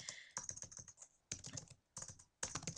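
Quick clicking keystrokes on a computer keyboard, arriving in four short bursts separated by brief pauses, close and fairly quiet with no voices.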